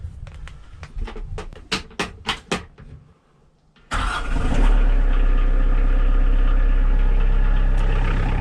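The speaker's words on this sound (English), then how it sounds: "And now we'll just go fire up the tractor." A tractor engine cranks through a few quick clattering turns, pauses briefly, then fires and settles into a loud, steady close-up idle that continues to the end.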